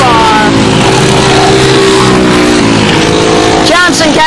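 Peugeot 206 Cup race cars roar past on a circuit. The engines drone loudly and continuously, their pitch shifting as the cars brake and accelerate, while a commentator talks over them.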